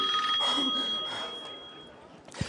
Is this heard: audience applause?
no